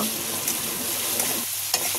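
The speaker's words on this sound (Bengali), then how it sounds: "মশলাটাকে ভালো করে তেলে ভেজে নেব" Ginger garlic paste with garam masala fries in hot oil for rui fish bhuna, a close, steady sizzle with soft stirring scrapes and a brief clack near the end.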